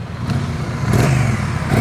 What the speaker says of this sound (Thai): คันนี้คงเป็นท่อเดิมนะครับเดี๋ยวมาฟังเสียงท่อคันนี้กัน อัตราติดง่ายครับ รอบเดินเบานิ่ง อัตราเร่งเป็นไงครับ